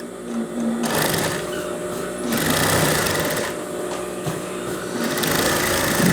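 A sewing machine stitches a pajama seam for a Saudi thobe in steady, buzzing bursts, starting and stopping several times close to the listener, with no talk over it.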